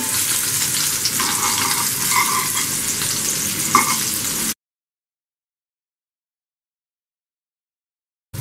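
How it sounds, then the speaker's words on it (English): Rava-coated bangada fish shallow frying Mangalore style on a medium flame, a steady close sizzle with a few stirring clicks for about four and a half seconds, then cutting to silence. "shallow fry the fish on medium flame"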